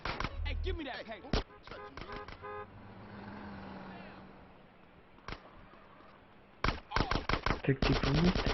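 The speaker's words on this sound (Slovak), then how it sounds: "Tak ty po mne strieľaš" Bursts of automatic gunfire and single shots ring out in the video game GTA San Andreas, dense at first and again at the end, with a calmer stretch of street and vehicle noise in between.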